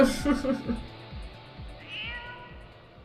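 A cat meows in a Final Fantasy XIV cutscene, one short mew near the start over a game soundtrack with a steady pulsing beat.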